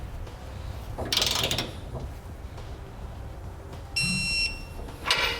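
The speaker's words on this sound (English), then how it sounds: "I'm going to come back with a 3/4 inch socket and torque down my 1/2 inch hardware" Socket wrench torquing down half-inch hardware on a Curt trailer hitch receiver fitted to a 2018 Ram 1500, giving a few short ratcheting bursts and metallic clicks at close range with quiet gaps between them.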